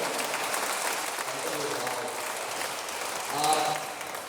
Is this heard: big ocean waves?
no